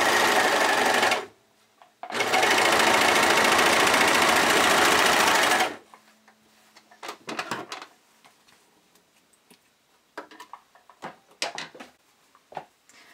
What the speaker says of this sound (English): I'm going to serge all of my seams